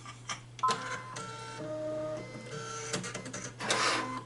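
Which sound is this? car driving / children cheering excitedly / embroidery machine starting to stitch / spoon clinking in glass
embroidery machine starting to stitch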